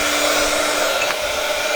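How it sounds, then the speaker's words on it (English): A hair dryer blows steadily while drying a handmade wand, with a constant whirring hum and airy rush, loud and close, with no voices. "you could use a hairdryer on it and it'll just speed it up a bit"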